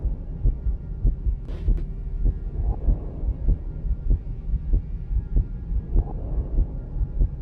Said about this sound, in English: Oh, a heartbeat's getting faster too.